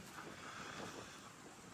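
Wind-driven waves wash and slosh on open water during a fishing trip at Arnasoy, a steady broadband rush with gusty wind noise on the microphone throughout, no voices.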